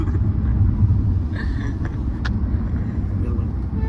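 Car driving on a road in Tamil Nadu, heard from inside as a steady low rumbling drone of engine and tyre noise with a few faint clicks and rattles.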